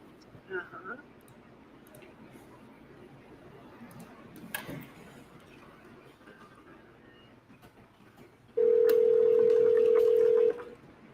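A steady electronic telephone tone sounds loud and unbroken for about two seconds during a call transfer, following a quieter stretch of faint line noise and brief clicks.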